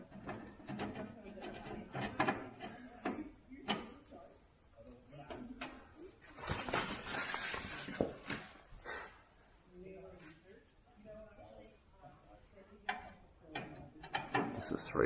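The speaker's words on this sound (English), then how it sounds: "So I just want to remove the screws that purely hold the retaining ring in" Screws being undone from the retaining ring of a Holden HQ headlight, with irregular close ratcheting clicks and metallic taps, while someone talks over the work.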